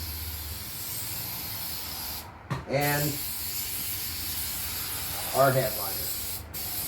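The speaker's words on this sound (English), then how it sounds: "Go ahead and spray the back of our fabric" A steady, loud hiss of spray adhesive onto the back of headliner fabric for a 1986 Buick Regal runs almost the whole time, broken by a brief pause, while a person speaks briefly over it.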